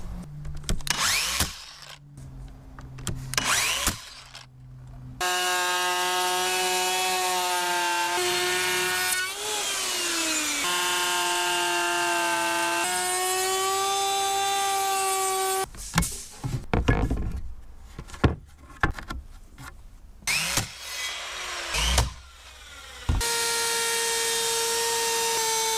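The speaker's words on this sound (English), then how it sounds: "So by routering out some grooves in the back of the pallet timber" A power router cuts grooves into the back of pallet timber, its high whining motor running steadily in long passes broken by brief pauses and handling noises, loud and close.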